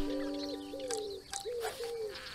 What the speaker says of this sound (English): The common wood pigeon.